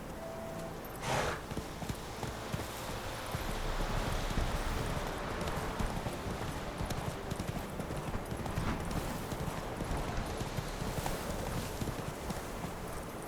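Hooves of the horse Roach clip-clop steadily at a trot in a fantasy video game, a continuous rhythmic patter over rustling ambience, moderately loud, with no talk.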